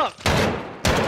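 Gunshots ring out in Modern Warfare, two loud broadband blasts close by, each followed by a short ringing tail, with no talk over them.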